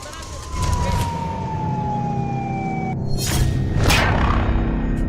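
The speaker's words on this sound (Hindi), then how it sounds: "बारामूला में जंगी सायरन बजा" A wailing war siren sounds in Baramulla under a steady background rumble, its tone sliding slowly downward as it carries from a distance.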